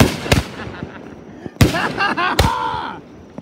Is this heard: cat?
no